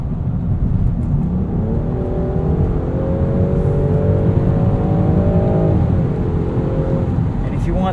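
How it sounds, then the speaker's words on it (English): A 2020 Land Rover Defender 110 with its inline-six engine accelerates steadily, its rising drone climbing in pitch for several seconds before easing off, heard close from inside the cabin over constant road rumble. "if you want that extra power, this inline six is a peach"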